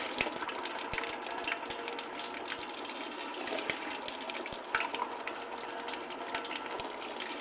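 Water runs from a tap into a cup to rinse out leftover laundry soap, a steady splashing gush with small clinks, moderately close and without speech.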